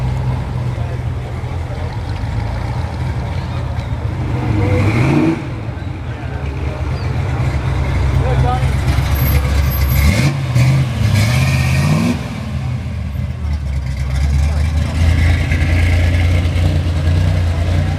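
Cars pulling away from a Cars & Coffee meet in San Dimas, engines revving and accelerating past at close range, with a steady low rumble and rising engine sweeps under background chatter.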